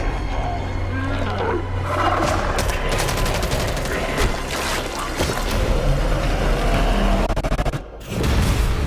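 Dense, loud gunfire from the Killing Floor video game, with rapid shots and bursts layered over a rumbling, chaotic game mix, continuous and up close, with a brief dropout near the end.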